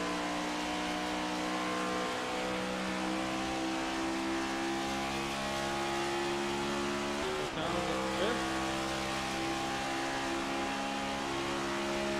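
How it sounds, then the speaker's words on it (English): A race car engine in a NASCAR-style racing game at Pocono roars at steady high revs, with a brief dip and pitch drop as it shifts gear partway through, dense and continuous with faint commentary beneath. "You can hear that motor shift."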